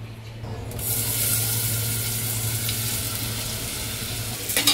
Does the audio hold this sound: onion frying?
yes